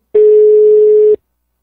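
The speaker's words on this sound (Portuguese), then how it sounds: "Vou ligar agora pra Karen" A telephone call being placed: one steady ringing tone lasting about a second, loud and clean, with no voices around it.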